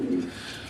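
A domestic pigeon gives a single short, close coo at the start, then low background noise.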